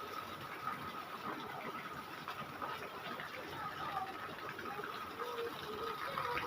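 Rushing rainwater flows and gushes across flooded farm fields after three hours of continuous rain, a steady broadband wash that stays moderately loud and constant throughout.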